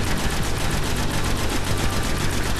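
Rapid, continuous gunfire from the video game Destiny on PS4 in an arena fight, a dense loud stream of repeated shots with no pauses and no talk over it.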